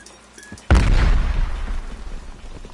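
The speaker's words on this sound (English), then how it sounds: "Explosions. Is that the extent of Requiem ingenuity?" A door blown open by an explosion in Call of Duty: Cold War: a sudden loud boom about 0.7 seconds in, with a heavy low rumble that slowly fades under the game's ambient noise.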